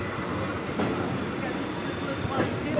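A local train on the Howrah to Belur Math line creeps along very slowly, giving a steady low rumble of rolling wagons with faint wheel squeal rising briefly near the start and again toward the end.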